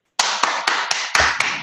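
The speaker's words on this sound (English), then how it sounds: "with a round of applause" A small group claps together for under two seconds, with sharp, evenly spaced beats and brief sustained bursts of clapping.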